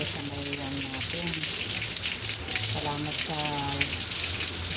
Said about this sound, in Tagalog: May ulan ngayon dito sa mga lalab